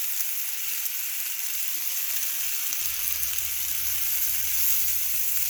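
A steak mixture sizzles and fries gently in a pan on low heat, a steady soft crackling hiss throughout, with a faint low rumble joining partway.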